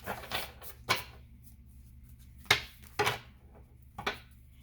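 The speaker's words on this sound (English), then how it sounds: "I'm gonna do my last two shuffles on camera" A deck of cards being shuffled by hand in a quiet room, heard as a few short, crisp riffling bursts spaced a second or so apart, close and moderately loud, with no talking.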